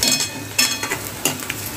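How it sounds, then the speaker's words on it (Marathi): Onion frying in a pan for kairi bhaji: a soft, steady sizzle with a few louder scraping stirs at regular intervals, close and without talk. "छान छान आपला कांदा चांगला तळून होतोय"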